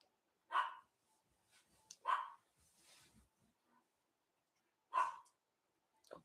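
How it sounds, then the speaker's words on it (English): Dogs bark indoors in three sharp, separate bursts spaced a few seconds apart, with faint whimpering and rustling between them; fairly quiet overall. "Oh, hold on, the damn dogs."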